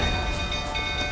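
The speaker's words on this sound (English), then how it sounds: "Looks like rain." Steady, dense rain hiss with a low rumble underneath in The Witcher 3: Wild Hunt, continuous and fairly loud, with no voices.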